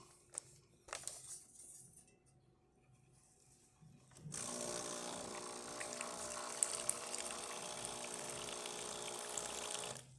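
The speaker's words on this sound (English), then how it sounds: "So let's test the hot water." A Breville Barista Express espresso machine dispenses hot water: after a few quiet clicks and low hum, a steady rushing, hissing flow starts and runs on evenly, close and continuous with a faint pump drone beneath.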